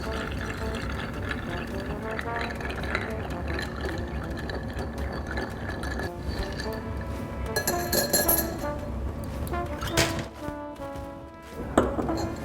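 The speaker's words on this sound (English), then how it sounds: "and then we're going to stir almost 57 times." Stirring a Creole cocktail of rye whiskey and Benedictine with ice in a mixing glass: a long, steady run of soft, close glassy clinks and swirling rattles, with a few sharper knocks near the end.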